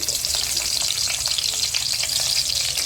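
Grated onions sizzle steadily in hot oil for egg fried rice, a dense, even crackle with no voices.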